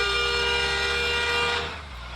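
A long, steady bus horn in a video game, Bus Simulator Indonesia, blares continuously under low engine rumble, then cuts off near the end, leaving the engine hum.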